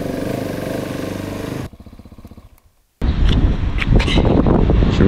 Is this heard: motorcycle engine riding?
yes